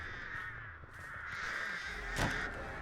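Crows summoned by the Artist killer in Dead by Daylight caw loudly and harshly, several overlapping calls close by with a sharp burst near the end.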